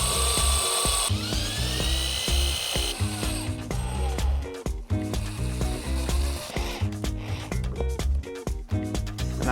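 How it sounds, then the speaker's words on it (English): Power drill pre-drilling holes and driving screws through a mounting plate into a DIY stool, loud bursts of whirring motor with rhythmic ratcheting clicks, stopping and starting repeatedly. "Now I'm going to quickly pre-drill the holes and attach the plate with screws."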